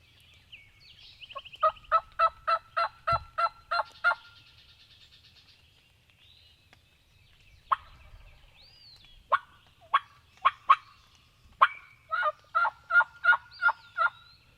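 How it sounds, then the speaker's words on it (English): A wild turkey gobbles repeatedly in bursts of rapid, rattling calls, fairly distant and clear against a quiet background with no talking. "He's gobbling like crazy."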